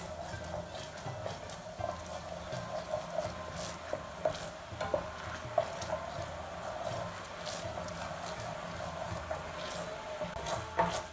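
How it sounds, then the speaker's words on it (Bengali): Jaggery and puffed rice mixture stirred continuously in a pan, quiet scraping and knocking strokes in an uneven rhythm over a soft sizzle. "মিশ্রণটাকে অনবরত নাড়তে থাকবো।"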